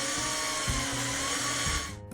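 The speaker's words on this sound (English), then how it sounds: "Attach the bracket by driving the screws through the holes in the bracket into the seam below the baseboard." A power drill drives screws through a plastic bracket into the seam below a baseboard. The motor whines steadily with a few brief changes in pitch, close by, and stops at the end.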